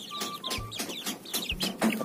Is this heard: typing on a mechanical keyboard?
no